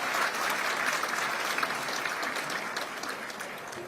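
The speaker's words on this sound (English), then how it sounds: "Let's thank him again with a round of applause." Sustained applause from a large audience after a speech at a security forum opening ceremony in Beijing, steady and dense throughout, slowly tapering toward the end.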